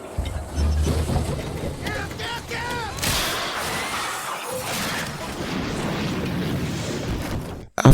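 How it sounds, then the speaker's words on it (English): A loud explosion scene from the film There Will Be Blood: rumbling blasts, crashing debris and clatter pile up over several seconds with voices in the mix, ending in an abrupt cut. "the explosion scene"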